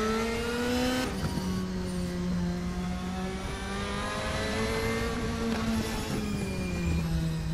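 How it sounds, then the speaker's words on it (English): An Audi race car in the RaceRoom racing game holds a loud, sustained engine note, with pitch dipping and climbing through shifts as it accelerates, plus a brief tire squeal. "Let's go and listen to this little beauty, this Audi."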